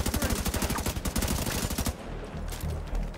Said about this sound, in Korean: 총소리가 뭔가 좀 아쉽다